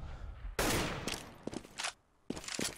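Sustained automatic gunfire from a Counter-Strike match, loud bursts spraying in rapid succession with brief gaps and a short lull before another volley, close and dominant.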